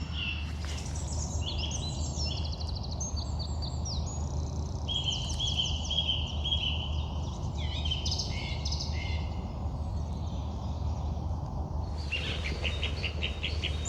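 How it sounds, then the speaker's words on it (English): A song thrush sings from high in a woodland, its bright repeated phrases carrying clearly over a steady low background rumble, with a brief pause before the song resumes. "we've got a song thrush really going for it up there"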